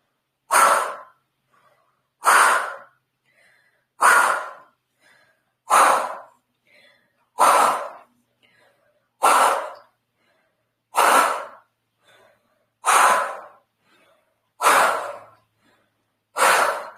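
Deep, forceful breaths in and out through the mouth during a guided breathing exercise, about ten evenly spaced rushes of air roughly two seconds apart, close and loud with silence between.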